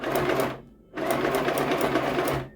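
A sewing machine runs a long seam on a pillow made from drying mats, loud and close, in two steady bursts split by a short pause and a backstitch at the corner.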